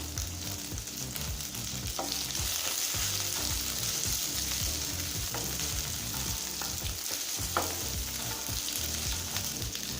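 Small shallots sautéing with three green chillies and a dried red chilli for moong dal sambar, a loud steady sizzle with frequent spatula stirring and scraping throughout, nobody speaking.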